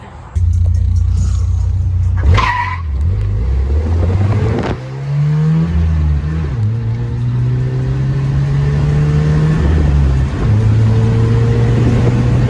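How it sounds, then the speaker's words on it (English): A lowered 1982 Toyota Hilux pickup with a four-cylinder engine revs loud and close, its pitch rising and falling through several pulls, while a brief squeal suggests the tires spinning; no voices. "We'll spin the tires. Here's some clips of us doing some hoon stuff in it."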